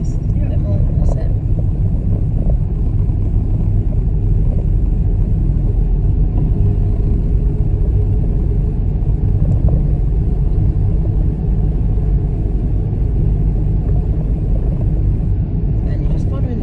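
A learner driver's car engine rumbles and builds as gas is gently applied on a real road, a steady low drone filling the cabin throughout, while an instructor and student talk over it.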